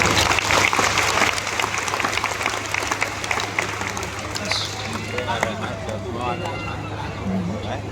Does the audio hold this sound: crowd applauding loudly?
yes